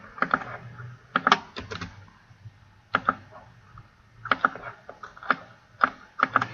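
Keys tapped on a computer keyboard while entering database values for a specimen exam task, bursts of crisp clicks in short clusters separated by pauses, close and fairly clear.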